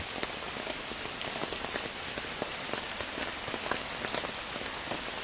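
Steady, dense rain pattering on surfaces, a continuous close wash of countless drops with no voices.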